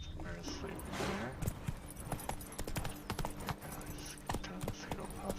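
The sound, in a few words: horse hooves clip-clopping in video game Witcher 3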